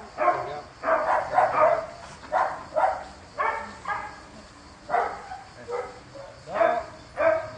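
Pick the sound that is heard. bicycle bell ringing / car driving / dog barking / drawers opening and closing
dog barking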